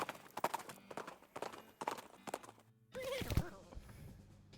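Horse hoofbeats and a neigh in the video game West of Loathing: a few close, rhythmic hoof clops followed by a short whinny near the end.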